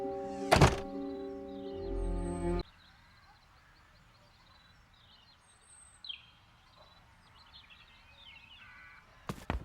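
A loud thunk and a short voiced snippet, then several faint crow caws scattered over quiet ambience in the game The Dark Eye: Chains of Satinav, ending with another thump.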